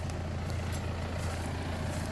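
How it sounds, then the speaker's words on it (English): A steady low tractor engine rumble runs throughout on a sheep farm in Ireland, constant and fairly close, idling or chugging along without any voices. "Tractor's going."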